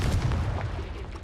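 A Confringo blast-curse explosion in Hogwarts Legacy gives a brief, deep, rumbling burst that stays heavy and low for about a second.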